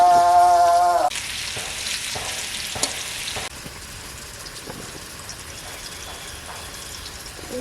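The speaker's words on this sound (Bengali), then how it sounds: "নুন আর হলুদ দিয়ে ভালো করে আলুটাকে ভেজে নেব" Potatoes frying in oil with salt and turmeric for a home-style mutton curry: a steady close sizzle with occasional stirring scrapes, louder during an early burst, after a brief tonal beep at the start.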